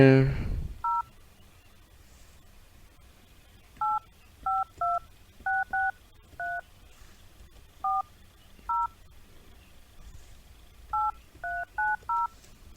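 Telephone keypad dialing tones from a phone booth in a video game, a series of short, clear two-tone beeps in irregular clusters across a quiet background after a brief low thump at the start.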